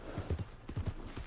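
Horse hooves clip-clop in a quick uneven rhythm of soft close thuds during Red Dead Redemption 2 gameplay, a short burst of several steps on its own with no talking.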